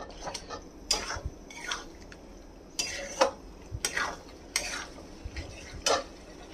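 Mutton keema with yogurt being stirred and fried uncovered in a pan, with repeated scraping strokes of a spoon against metal over a low sizzle, close and fairly loud, with no voices.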